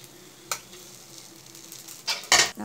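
Pesarattu dosa batter with onions and oil sizzles on a hot pan, a soft steady fry punctuated by a couple of louder bursts of crackling near the end, close and without talk.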